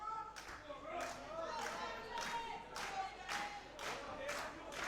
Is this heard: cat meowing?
no